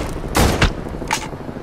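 Gunfire in the PS2 shooter Black, a pair of loud close bursts followed by a third shot, sharp and echoing against a low background, with no talking.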